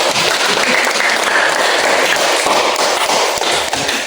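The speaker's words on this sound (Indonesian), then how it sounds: "Tepuk tangan untuk kita semua." A classroom of students claps together, steady brisk applause filling the space for several seconds with no talking.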